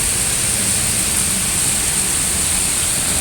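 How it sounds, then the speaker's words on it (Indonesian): Heavy afternoon rain pours down in Solo near the Tirtonadi bus terminal, a dense, constant hiss of falling water with no breaks and no voices. "Solo diguyur hujan ya."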